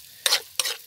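Two quick scraping stirs sound through food frying in a pan, each a short close sweep over a soft background sizzle.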